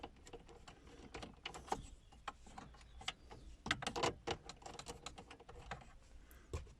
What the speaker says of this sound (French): on y va gentiment avec une clé de 7 pour dévisser les petits boulons présents de chaque côté de la façade